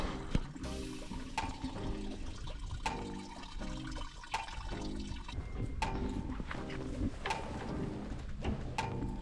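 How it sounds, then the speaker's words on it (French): Premium unleaded 98 fuel draining from the tank of a Ford Model T, a steady splashing pour with occasional clinks, close and continuous throughout with no talking. "Maintenant qu'on a vidangé le réservoir"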